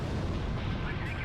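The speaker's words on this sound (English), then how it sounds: "I think I can actually drop bombs on it." Bombs exploding on a C-130 transport plane in the video game Ace Combat Zero: The Belkan War make a dense, rumbling blast that fills the whole brief moment with a loud, sustained low roar.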